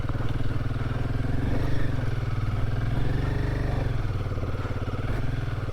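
A motorcycle with a fault climbs in first gear on a rough shortcut route from Jumla to Rara, its engine droning steadily and close with a slightly uneven, labouring throb throughout.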